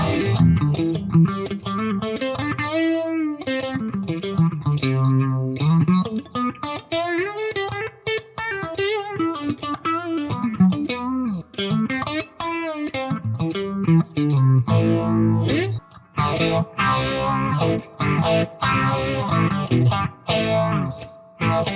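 Electric guitar run through an MXR Phase 90 Script Edition phaser pedal with a boost dirtying the tone, played continuously with a slow sweeping whoosh of phase moving over sustained chords and picked notes, loud and alone.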